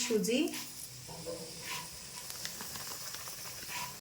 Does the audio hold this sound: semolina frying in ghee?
yes